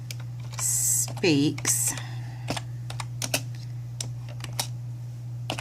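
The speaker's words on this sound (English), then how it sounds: "the first thing I do is type in God" Typing on a computer keyboard: a run of light, close key clicks in an uneven rhythm, partly under a speaking voice, over a steady low hum.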